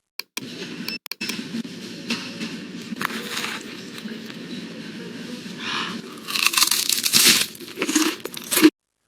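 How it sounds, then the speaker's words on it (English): A girl bites and chews chips, giving close, dry crunches and crinkling bursts that grow louder and denser toward the end, with no talking. "even the way she eats chips feel natural"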